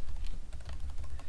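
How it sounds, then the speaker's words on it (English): Rapid keystrokes clatter on a computer keyboard, close and fairly quiet, an uneven run of taps with no talking. "let's just select some text and then type something"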